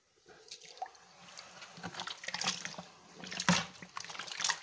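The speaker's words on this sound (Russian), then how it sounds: "Все хорошо сейчас перемешаю." Sugar being stirred into crushed grapes in a container for homemade Moldovan grape wine, giving wet, sloshing, squelching liquid sounds in irregular bursts, moderately loud and close, with no talking.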